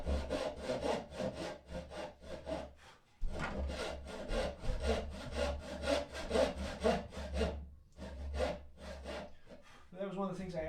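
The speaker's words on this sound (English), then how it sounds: "the thing you're hearing is the vibration of the board" A hand saw cuts through a wooden board that wobbles and vibrates in a workshop, giving steady rhythmic rasping strokes with a brief pause partway through, close and fairly loud.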